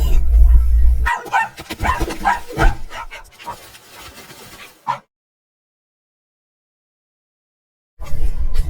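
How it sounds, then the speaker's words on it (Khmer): Dogs bark in a rapid, close flurry for a few seconds, then everything cuts to silence. "6ឆ្កែ6កំពុងប្រឡែងគ្នា"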